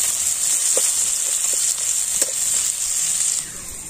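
Chopped onion sizzles in hot oil in a pan while potol dorma with prawn is being cooked, a steady bright hiss of frying that runs unbroken and fairly loud, with a few faint clinks underneath.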